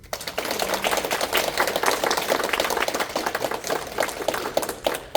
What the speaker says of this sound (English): give a round of applause for Tori.